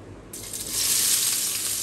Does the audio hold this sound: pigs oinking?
no